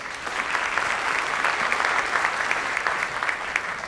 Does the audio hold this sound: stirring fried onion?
no